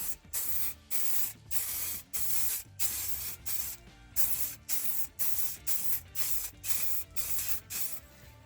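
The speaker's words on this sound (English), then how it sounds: "we can apply our first coat of the chalk paint. Apply it like any normal kind of paint." Short bursts of chalk spray paint hissing from an aerosol can onto a glass plate, roughly a dozen pulses in a steady rhythm, close and loud with brief gaps between them.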